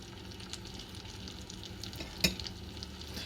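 Irish potato cakes fry in a pan with a steady soft sizzle and crackle, close by, and a single sharper tap partway through.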